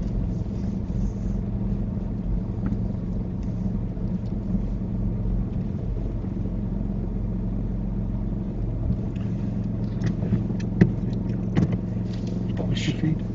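Car engine and road rumble during a driving lesson, a constant low drone from inside the cabin with faint knocks and clicks scattered toward the end.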